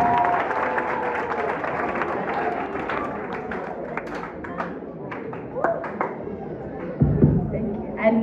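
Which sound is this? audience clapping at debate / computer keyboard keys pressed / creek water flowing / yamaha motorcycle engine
audience clapping at debate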